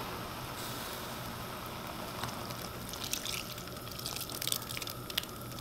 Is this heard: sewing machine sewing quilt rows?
no